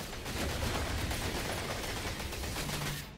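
Alien blaster with shield firing in the Farpoint video game, a dense rapid burst of crackling shots and sparks, steady and fairly faint, ending abruptly, with no talking.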